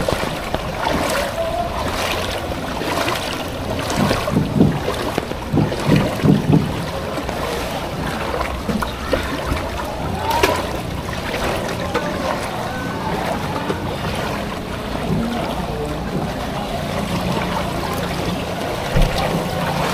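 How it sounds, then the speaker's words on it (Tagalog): A strong river current rushes steadily as a broad, loud, continuous wash of water, with a few faint bumps and knocks along the way and no talking. "Diyan, ang lakas ng agos."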